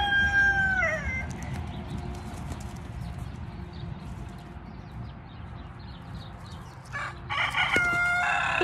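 A rooster crows near a backyard duck and chicken pen, once at the start and again near the end, loud and close over steady outdoor background noise with no talking.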